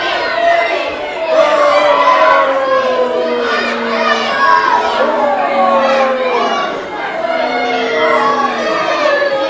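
Crowd at a wrestling show shouting and cheering continuously and loudly, a dense mix of many voices with higher, childlike shrieks rising and falling throughout.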